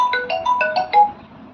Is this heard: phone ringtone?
yes